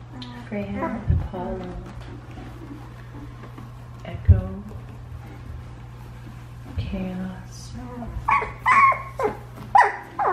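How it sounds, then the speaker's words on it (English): Two-week-old puppies whimper, yip and give small barks in bursts, close and fairly soft, over a steady low hum, with a few brief squeals clustering near the end. "These two are Jade's puppies."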